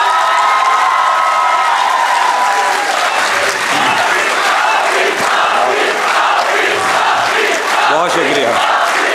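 A large audience applauds and cheers for the poet Tehzeeb Hafi at a shayari recital, sustained loud clapping with whoops and shouts throughout, and a voice speaking briefly at the start.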